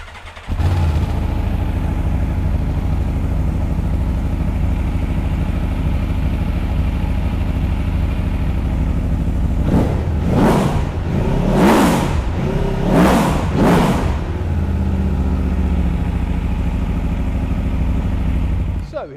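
An Aprilia Tuono V4 1100 Factory motorcycle engine idles with a deep, steady rumble, then revs sharply four times in quick succession before settling back to idle.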